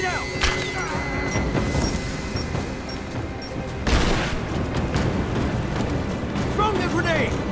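Grenade blast in the Rise of the Tomb Raider video game: a loud broadband boom about midway, set amid dense ongoing combat noise, gunfire-like crackles and shouted voices throughout.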